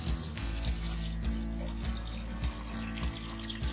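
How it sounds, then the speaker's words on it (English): Water pouring from a tap into a pan of rajma kidney beans being cooked, a steady loud splashing gush with small rhythmic bumps and clatter, no voices. "Now we'll be adding a lot of water to it."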